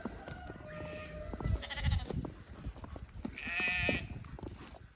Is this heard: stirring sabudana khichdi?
no